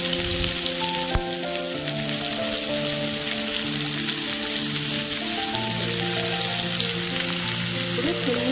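Okra added to a hot pan sizzles and crackles steadily while frying for an egg curry in a village kitchen, a continuous close hiss with no talking.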